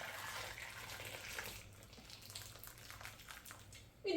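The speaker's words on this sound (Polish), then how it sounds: "Zalewamy wrzącą wodą." Boiling water poured over four scored tomatoes: a faint, steady splashing stream runs for a few seconds, with a louder splash at the end.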